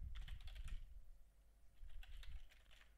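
Rapid typing on a computer keyboard while entering game code, a steady close clatter of keystrokes in two bursts with a brief lull between.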